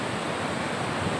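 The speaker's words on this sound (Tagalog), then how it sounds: "Kasi ang lalaki ng alon." Big sea waves roll onto the shore during monsoon weather, a steady loud roar of surf mixed with wind buffeting the microphone, with no voices.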